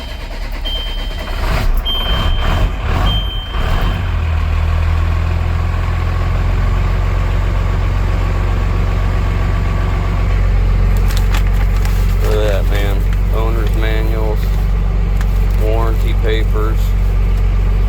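A Peterbilt 379 semi truck with a Big Cam Cummins diesel rumbles steadily at idle, loud and close, after a short burst of sharp high beeps early on; voices speak briefly over the engine near the end.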